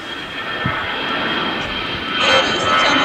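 An Iberia Airbus A330-200 jet at Los Angeles airport gives a steady broad engine roar that swells slightly louder toward the end, heard alone at moderate distance.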